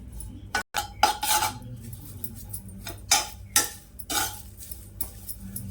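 Spices and curry leaves are stirred and dry-roasted in a pan, heard as a series of close metallic scrapes and clinks from a spoon against the pan in uneven bursts, with no talking.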